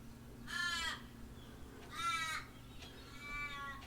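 A crow caws three times, harsh, ragged calls spaced about a second and a half apart, fairly close over a quiet outdoor background.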